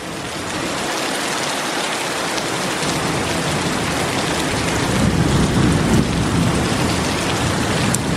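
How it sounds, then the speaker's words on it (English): Heavy, steady tropical rain pours down loudly in a Costa Rican rainforest, with a low rumble of thunder swelling partway through. "it has been pouring for the past like 6 hours."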